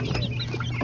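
Chickens cluck in a short, low-level burst of soft overlapping calls from a flock in a coop, with no talking.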